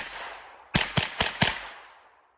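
An IWI Tavor X95 9mm bullpup rifle fires four quick, loud shots close by, evenly spaced, each followed by a fading outdoor echo.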